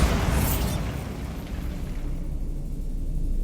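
The Bombarda blasting spell in Hogwarts Legacy goes off as one loud booming burst at the start, then a rumbling tail that fades over a few seconds.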